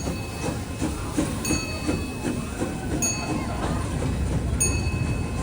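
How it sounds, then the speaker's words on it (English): Amusement park train at Knott's Berry Farm rolls past close by with rhythmic wheel clatter, metallic clanks and a high bell-like ring, amid the murmur of a crowd. "I got stopped by the choo-choo."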